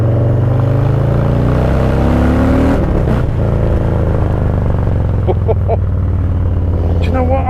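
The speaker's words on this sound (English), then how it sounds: "It's got a Two Brothers Racing exhaust on it, and sounds amazing." A Harley-Davidson Low Rider S with a Two Brothers Racing exhaust accelerating hard for an overtake, a loud continuous low engine roar with wind noise, rising and shifting pitch, close and steady throughout.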